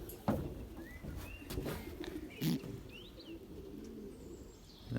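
Soft cooing from a young racing pigeon handled indoors, low murmuring coos running steadily underneath, with a few faint chirps and higher bird calls around it; no talk over it.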